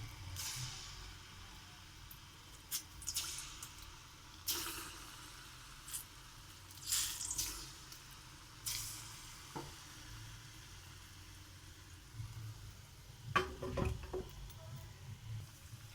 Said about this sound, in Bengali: আমি তালের বড়াগুলো এক এক করে ছেড়ে দেব তেলের মধ্যে